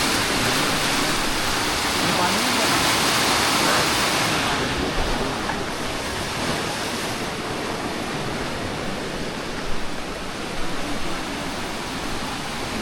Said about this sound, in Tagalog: Ito ng ilog oh.